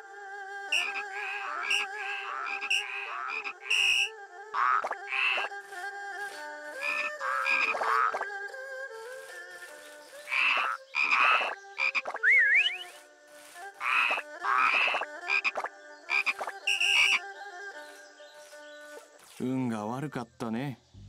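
Frogs croak in a frog-race minigame in Shenmue III on PC, with a string of short, tonal, croaking calls in irregular bursts, close and fairly loud, and a warbling sweep near the end.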